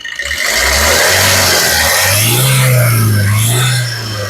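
A 2017 Maruti Suzuki Ciaz ZDI Plus diesel engine idles nearby, then revs up to a higher, sustained drone before easing back down.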